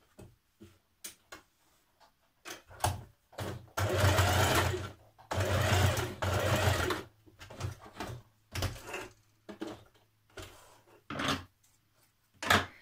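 A domestic sewing machine stitches a pocket on jeans in several short bursts and one longer steady run, close and clear, with small clicks and pauses between runs.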